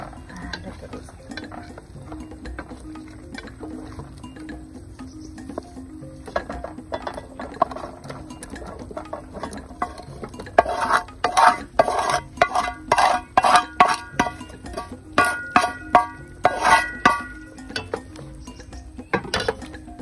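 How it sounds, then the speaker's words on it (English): Stir-fried potatoes, sweet potatoes and carrots go into a pot of Vietnamese chicken curry, with a stretch of busy clattering, clinking and scraping over a steady low background hum. "So now I'll add the stir-fried potatoes, sweet potatoes and carrots into the pot as well."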